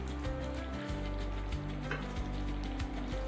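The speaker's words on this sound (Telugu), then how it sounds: "ఒకసారి కలుపుకుందాం." Paneer curry with kasuri methi sizzles gently in a pan while being stirred, with soft scraping under a steady low hum, close and without speech.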